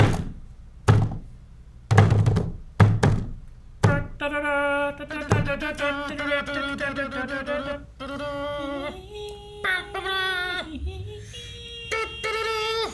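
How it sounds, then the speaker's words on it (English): Fists bang on a table in a run of heavy, close thuds at the start, and then music and a voice take over while a few more knocks sound under them. "the sounds of Eric using both fists to bang on table"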